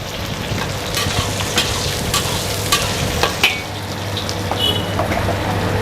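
Onions sautéing and being stirred in hot oil for stir-fried green beans, a steady close sizzle with scattered scraping clicks from the stirring, no talk.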